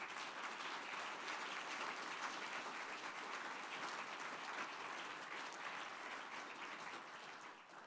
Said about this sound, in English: let me ask you a very big round of applause to these colleagues